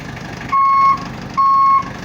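Vehicle reversing beeper siren newly fitted at a repair shop, two loud steady electronic beeps about half a second each with a short gap, close up over a low rumbling background.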